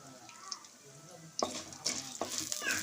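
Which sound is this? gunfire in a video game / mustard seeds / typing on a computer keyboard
mustard seeds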